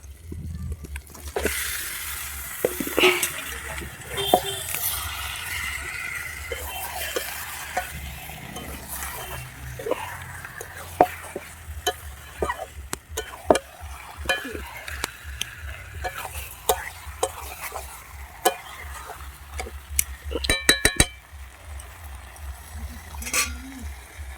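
Marinated desi chicken stirred into spice paste frying in oil, cooked village style on a Sunday at home. A continuous close sizzle runs throughout. Scraping and stirring strokes and sharp clinks of a spoon against the pot come repeatedly, and the clatter grows busier near the end.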